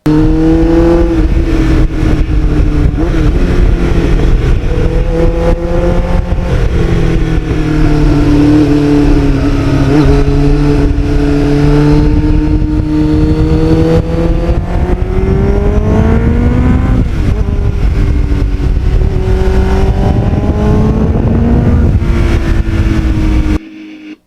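A restored 32-year-old Kawasaki Ninja motorcycle riding on back roads in North Jersey, its engine droning loudly and continuously with pitch rising and falling as it accelerates and shifts through the twisties, with wind rush throughout.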